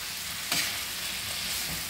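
Chicken liver frying with green chillies and curry leaves, a steady close hiss of sizzling oil with a single sharp stir or scrape early on.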